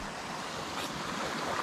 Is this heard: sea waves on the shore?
yes